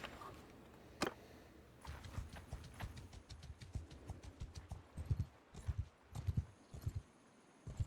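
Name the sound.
steppe horses walking in video game Mount & Blade II: Bannerlord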